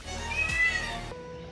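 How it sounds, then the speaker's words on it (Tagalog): A cat gives a single clear, fairly close meow against a quiet indoor background, with no talking. "Pusa naman."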